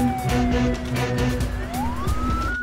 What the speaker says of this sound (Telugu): తప్పండి తప్పండి, అంబులెన్స్ దారి ఉండి పక్కనండి.